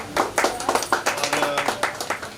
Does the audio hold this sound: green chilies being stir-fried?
no